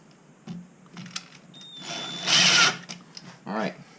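Cordless power drill driving in a final screw during a cash wrap installation, a brief whirring burst building and cutting off amid small handling clicks, close and moderately loud.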